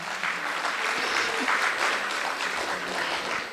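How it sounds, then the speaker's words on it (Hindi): Guests at a child's first birthday party applaud in a dense, steady burst of clapping from a sizable crowd that fills the whole stretch, with faint voices mixed in. "तो आयांश के लिए जोर से सब ताली बजाइए"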